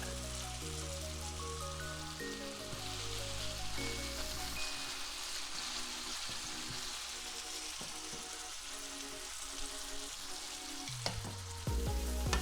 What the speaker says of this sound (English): So now that the pasta's cooked, pop it into the pan.